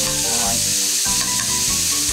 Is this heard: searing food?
yes